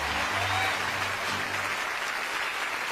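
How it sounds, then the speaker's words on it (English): Theater audience at a magic show applauding the magician's assistant, a broad even patter of many hands, with a brief low tone and some talk in the opening seconds. "That's why you can applaud my lovely assistant."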